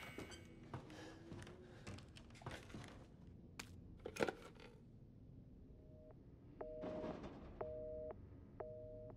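A telephone in the horror video game Resident Evil 7 rings in repeated short electronic tones near the end, preceded by scattered creaks, thumps and mechanical clatter at a moderate, somewhat distant level.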